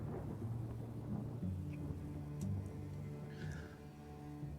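Thunderstorm ambience with a low rolling rumble of thunder and steady rain noise, faint and distant and continuous for the whole stretch.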